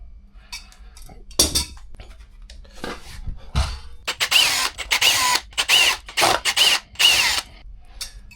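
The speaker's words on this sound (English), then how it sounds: "So now we can start loosening up these bolts" Power tool bursts loosening front brake disc bolts on a Yamaha R1 motorcycle, several short loud whirring pulses in quick succession after quieter handling clatter.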